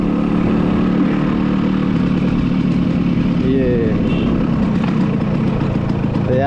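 A modified 1988 Yamaha RX100 motorcycle rides through a village, its steady engine drone running continuously and loudly throughout, with a brief whistling rise partway through.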